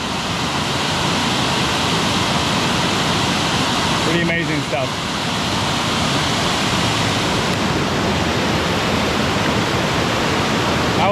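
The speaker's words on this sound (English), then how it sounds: "I want to show you this waterfall right here. It is so loud in here" A loud waterfall pours beside a creek, its dense, roaring rush filling the whole stretch without a break, while someone speaks briefly over it partway through.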